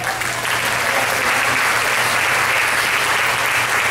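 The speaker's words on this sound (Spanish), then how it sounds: "Denle un aplauso de Dios." Applause from a church congregation during a sermon, a dense steady wash of many hands clapping at full strength throughout, with no voices rising above it.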